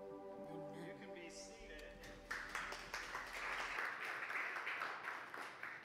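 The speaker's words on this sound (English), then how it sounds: "they deserve the applause" A church congregation applauds at an evening service, broad steady clapping filling the room after the music ends, moderately loud and sustained with some voices mixed in.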